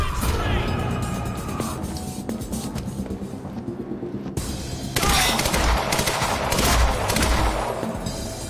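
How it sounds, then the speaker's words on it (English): Sustained automatic gunfire and bursts of shots in the Quantum Break video game, loud and close, with crashes and a brief lull midway before the firing resumes, and voices shouting over it. "Open fire! Okay. Shoot it!"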